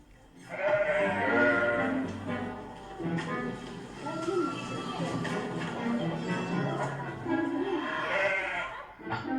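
Several sheep bleat repeatedly and close by, their overlapping calls mixed with shuffling and tapping, with people talking in French amid the flock.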